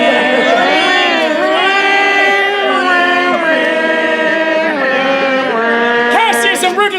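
A crowd hums Amazing Grace together in imitation of bagpipes during a theatre performance of Julius Caesar, a loud, sustained droning chorus of voices with slowly sliding pitches throughout.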